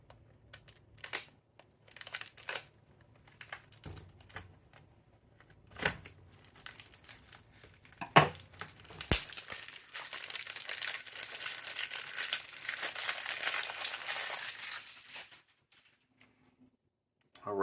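An Amazon package holding a tarot deck gets opened by hand, with close crinkling, tearing and rustling of packaging in irregular bursts, building into a longer stretch of steady scraping and crumpling before quieting.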